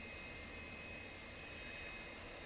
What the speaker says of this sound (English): The engines are up and running.